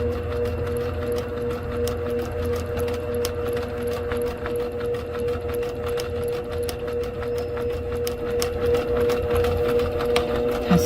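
A sewing machine stitches in the ditch around an appliqué, its needle running in a steady, fast mechanical rhythm with a constant motor hum, close and continuous throughout.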